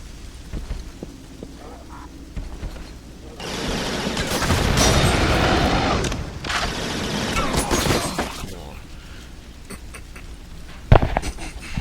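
Gunfire from the video game Resistance erupts in two loud sustained bursts of rapid, crackling shots, separated by a brief lull, then fades to quiet mechanical hum with a single sharp bang near the end.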